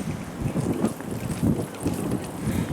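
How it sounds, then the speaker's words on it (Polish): Gusts of wind buffet the microphone in uneven rumbling bursts, loud and close, with no voices, on Granary Island in Gdańsk. "Trochę wiatr jest, czapkę mi ściąga z głowy."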